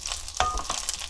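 Sea eel is stir-fried in a spicy sauce. There is a brief, soft sizzle with a few light scraping stir strokes, close but quiet, and no voices.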